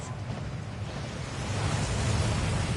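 Steady rushing roar of a waterfall in the game Hogwarts Legacy, broadband and constant, swelling slightly louder partway through, with no voices over it.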